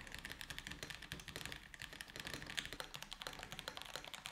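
Typing on a 100 Thieves mechanical keyboard with softer foam inside, a quiet rapid patter of keystrokes clicking at an even pace, close and alone without any voices.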